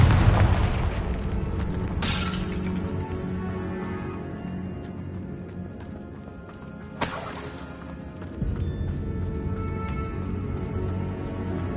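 Confringo fire-blast spells explode in a Harry Potter video game, with booming impacts near the start, around two seconds and around seven seconds, each followed by a long rumbling roar and crackle.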